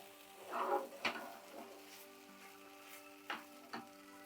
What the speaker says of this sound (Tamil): நல்ல சிம்மில் தான் நான் போட்டு கிண்டிகிட்டு இருக்கேன்